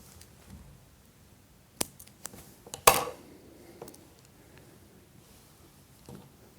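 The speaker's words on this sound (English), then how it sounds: "Trim off the tag end." Scissors snip through the tag end of fluorocarbon fishing line on a spring boom rig, giving a few close, sharp clicks, with one louder cut near the middle of an otherwise quiet moment.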